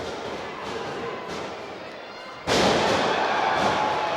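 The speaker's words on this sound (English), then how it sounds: "Missile drop kick to Sami Callihan." Missile drop kick landing in a wrestling ring: a sudden heavy slam on the canvas halfway through, under steady crowd noise and commentary talk.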